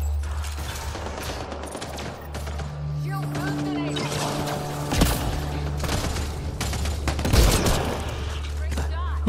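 Gunfire in the video game Mass Effect Andromeda, irregular bursts of shots and sharp cracks over a low ambient hum, with a couple of louder impacts midway and toward the end, mixed with other game sounds.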